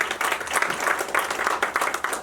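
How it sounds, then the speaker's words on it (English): Audience applause at a community event honouring Pakistani women, steady dense clapping that lasts throughout without pause, with faint voices mixed in. "give a big round of applause to Aisha Ali as well."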